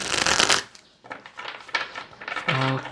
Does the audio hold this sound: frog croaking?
no